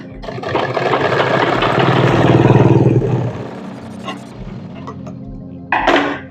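Sewing machine stitching a fabric pocket on a pant, a loud, fast mechanical whirr that builds and fades over about three seconds, then a few soft clicks and a short final burst.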